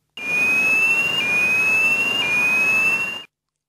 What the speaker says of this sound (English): but the fire alarm sounds like this.